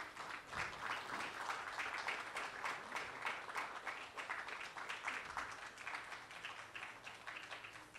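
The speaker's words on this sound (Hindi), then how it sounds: "एक बार जोरदार तालियां हो जाए" Crowd at a book launch for I Am Krishna breaks into hearty applause, a continuous burst of many hands clapping that stays fairly even and somewhat distant throughout.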